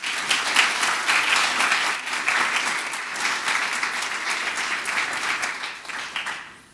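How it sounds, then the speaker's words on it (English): An audience at a family-day conference closing session breaks into dense, sustained applause, loud and close, that tapers off over the final second. "give her a round of applause."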